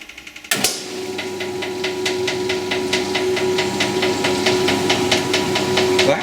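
The motor of a 1989 Maytag Orbital Fabric-Matic washing machine starts with a thump, then runs with a steady hum and a fast, regular ticking clatter, loud and close, with no voices.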